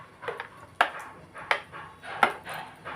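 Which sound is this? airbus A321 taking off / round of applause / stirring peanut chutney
stirring peanut chutney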